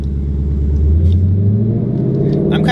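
A deep, throaty Ford Mustang GT exhaust with a Roush cat-back system rumbles loudly nearby, its pitch climbing as the engine revs, with a few voices briefly audible.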